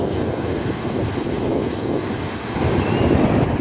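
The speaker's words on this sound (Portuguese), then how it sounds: "Mar agitado." Rough sea surf breaks along Santos beach in Brazil, a continuous broad roar of churning waves mixed with gusty wind on the microphone, swelling louder toward the end.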